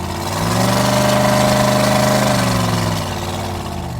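A 1933 Ford 3-Window Coupe street rod runs close by, its engine revving up into a loud, steady rumble, holding there, then settling back to a lower idle, with no voices over it.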